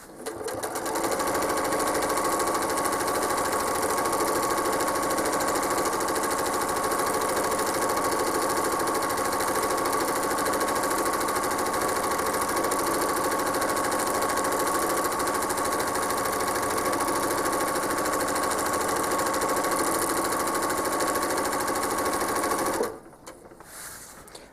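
A sewing machine quilts a feathered border on a quilt with a continuous, steady mechanical whir and rapid stitching rhythm. It runs close and unbroken for over twenty seconds, then stops abruptly.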